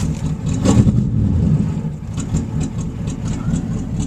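A 1962 Studebaker Hawk GT engine runs just after a cold start, a steady low rumbling idle with a slight rise in the middle, heard close up with no talking.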